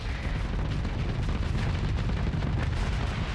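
Ship weapons fire in a space combat video game as a dense, continuous rumble of explosive booms and bursts, loud and sustained throughout without pause.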